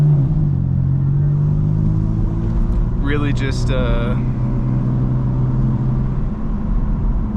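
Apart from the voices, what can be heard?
BMW M4 F82 car engine accelerating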